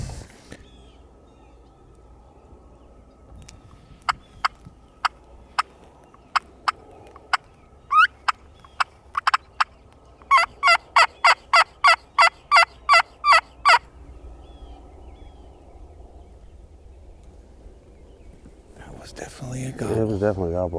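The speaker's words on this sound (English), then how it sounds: "definitely a gobble. I heard it" A wild turkey gobbles in snowy spring woods amid sharp calls and rapid rhythmic clucks from a turkey call, crisp and carrying, followed by people talking quietly.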